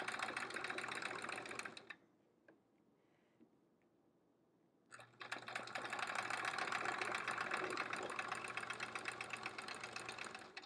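A sewing machine quilts a leaf motif on a quilt-as-you-go sampler block: a steady mechanical whir runs for two seconds, stops for about three, then resumes at the same even pace to the end.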